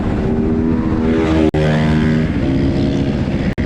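A Kovi 450 motorcycle accelerates and rides off with a steady, buzzing engine drone that holds close and loud, broken by two very brief dips as it pulls away.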